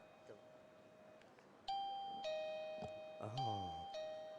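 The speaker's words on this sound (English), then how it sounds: "we include a wireless chime along with it. And this chime, you can select 6 different sounds." A wireless doorbell chime, one of six selectable sounds, rings out in a sequence of bright, ringing electronic tones that sustain and decay, with people talking faintly around it.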